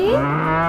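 A cartoon cow gives a single short, loud moo, heard alone.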